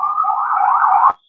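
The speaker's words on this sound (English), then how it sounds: "that's the ambulance, brother. You gotta know the difference of the siren." An ambulance siren wails loud and close in one sustained tone, then cuts off abruptly, leaving silence.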